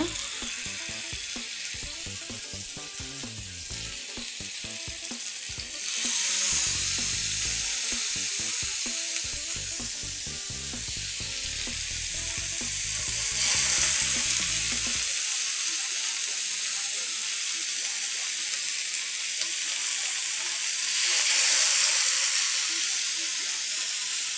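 Chicken pieces sizzle steadily in a pan over a medium flame, a bright continuous hiss that swells loudly at intervals as the pieces are turned, with faint clinks and no talking.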